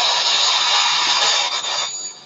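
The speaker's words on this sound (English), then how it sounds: "I'm sure the vacuum cleaner is on right now" A household vacuum cleaner runs steadily in the background as a broad, constant whoosh. Its airy hiss holds level, dips briefly, then fades slightly toward the end, with no speech over it.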